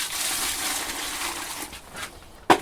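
Water is poured into a mix of step repair mortar and shingle, making a soft continuous splashing gush that fades out, followed by a short sharp knock.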